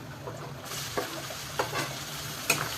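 Onion and tomato being sautéed in a pan for bheja fry, with a steady close sizzle and a few sharp spoon scrapes and taps at irregular intervals.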